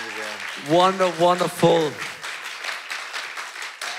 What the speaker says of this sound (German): Lass uns ihm mal Applaus geben.